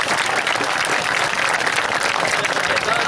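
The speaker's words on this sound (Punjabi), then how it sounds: "ਅਗਰ ਜ਼ਮਾਨ ਖਾਨ ਹੈ ਤਾਂ ਤਾੜੀਆਂ ਮਾਰੋ" Dense, steady applause from a large crowd at an open kabaddi match at a village fair in Mela Pola, Sargodha, sustained loudly and evenly throughout with no pauses.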